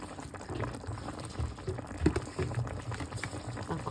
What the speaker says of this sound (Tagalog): Papakuluan natin ito, guys.